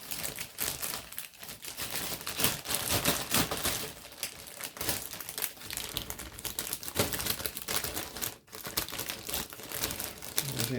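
Plastic packaging of an Amusing Hobby Porsche Tiger model kit crinkles and rustles continuously at close range, a dense crackling texture with brief pauses and no talking.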